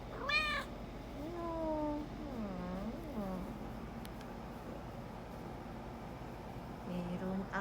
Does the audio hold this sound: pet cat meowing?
yes